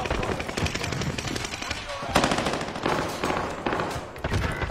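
Video game gunfire crackles in rapid automatic bursts, loud and close, with excited voices talking over the shooting throughout.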